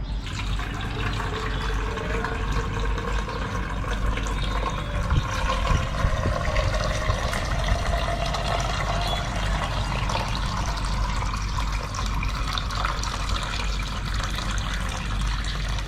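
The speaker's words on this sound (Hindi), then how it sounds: "तो दोस्तों यहाँ पर हम अभी वाटर डालना स्टार्ट कर देते हैं।" Water pours steadily into a box for an iPhone 12 Pro Max water test, a continuous close trickle and splash that holds at an even level throughout with no talking.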